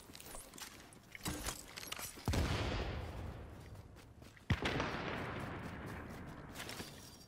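A sticky bomb detonates in The Division's Dark Zone with two sharp, loud blasts, each trailing into a long rumbling decay amid scattered game gunfire.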